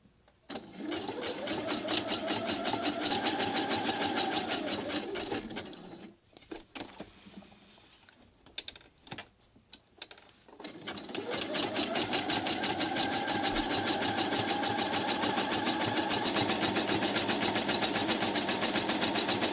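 A sewing machine stitches over cord on a small quilting piece in a steady, rapid run, pauses briefly with light handling clicks, then resumes at the same even pace.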